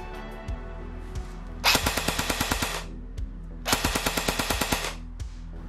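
An SA-FX01 Flex polymer airsoft replica fires two short full-auto bursts, each a rapid run of sharp mechanical cracks lasting about a second, separated by quieter clicks and handling noise, close and loud.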